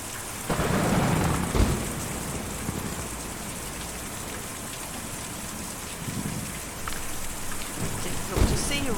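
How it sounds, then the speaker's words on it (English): A thunderstorm in the video game Kentucky Route Zero: steady heavy rain hisses on surfaces, broken by deep thunder rumbles and a few sharp cracks near the start and end. "Difficult to see or even hear a storm like that"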